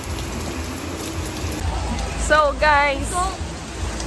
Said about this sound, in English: It's been raining in Liwaliw Zambales.